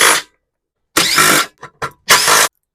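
A hand ratchet clicks in short bursts while loosening the 5/16 bolts on a Briggs and Stratton engine's fuel tank cover: three or four quick, close, crisp ratcheting runs separated by brief pauses.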